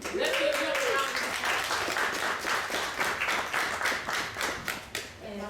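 Applause for a congressional district chair at a Democratic campaign gathering in Valdosta, Georgia, a mix of steady crowd clapping and distinct individual claps, with a brief voice at the start.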